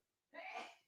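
One short, quiet sneeze bursts out abruptly and fades.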